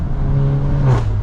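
A Stage 2 tuned VW Mk8 Golf R revs hard, its engine note rising and holding briefly before dropping into overrun, close and loud for just over a second with no talking.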